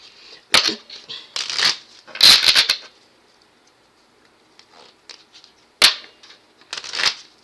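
Playing cards are shuffled in several quick riffling bursts, close and crisp, separated by short pauses.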